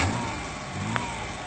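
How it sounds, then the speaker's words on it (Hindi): A motor vehicle engine starts and runs, a steady mid-pitched hum close by, with a brief sharp click near the middle. "स्टार्ट आ रही है भैया, गाड़ी की आवाज"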